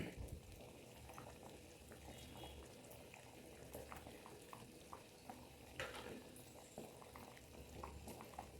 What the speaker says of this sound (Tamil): பாருங்கள், நல்லா கொதி வருது.